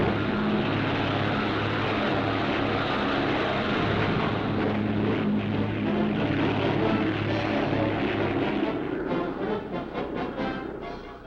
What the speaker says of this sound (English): Seaplanes aboard a cruiser are catapulted to take their place in the aerial battle line.